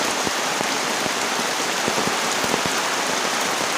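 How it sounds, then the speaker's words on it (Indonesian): A steady, heavy downpour during a camping storm hisses loudly, with individual drops tapping distinctly on the nearby shelter throughout. "hujan deras banget tuh."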